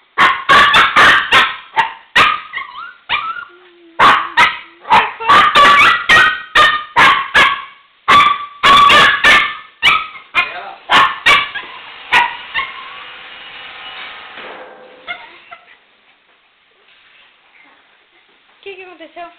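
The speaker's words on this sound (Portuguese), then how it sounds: "O cachorro ficou doido" A dog barks loudly and repeatedly in quick bursts, some yipping and whimpering, close by for about fifteen seconds before fading into quiet.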